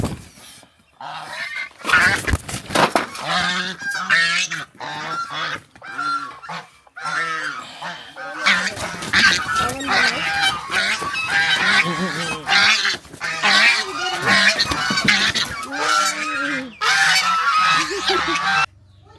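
Ducks honk and quack loudly and repeatedly in a noisy, agitated burst as one is caught, with scuffling and a few people's voices mixed in.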